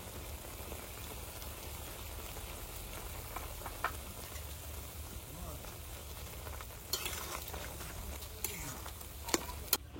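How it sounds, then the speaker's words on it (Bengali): Curry of taro stolons and shrimp boiling in a village kitchen, a faint steady bubbling and light sizzle with a few small pops and clinks, no talk. "আচ্ছা তরকারি তো টকবক করে জাল ওঠে"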